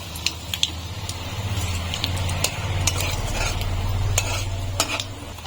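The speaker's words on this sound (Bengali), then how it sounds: "বেগুন ভাজার তেলের মধ্যেই আমি এখন একটা শুকনো লঙ্কা আর কালো জিরে ফোড়ন দিচ্ছি।" Dry red chili and nigella seeds temper in hot oil left from frying eggplant, a steady close sizzle with scattered sharp pops and light clinks of a stirring utensil against the pan.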